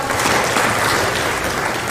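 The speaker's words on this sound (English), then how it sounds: "Let's appreciate them with a hand of clap." Loud, dense applause from an audience at an event fills the moment evenly from start to finish, with no speech over it.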